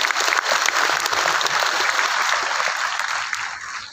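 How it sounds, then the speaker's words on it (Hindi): Big audience applause at a direct-selling company gathering, a loud, continuous roar of clapping that holds steady and then fades slightly toward the end. "ये आपके लिए जबरदस्त तालियां बजाइए इसके लिए"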